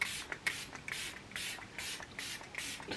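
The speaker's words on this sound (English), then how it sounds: "I'm just going to use a bit of this setting spray" A small bottle of makeup setting spray is spritzed several times in quick, close bursts, each a short soft hiss, with no talk.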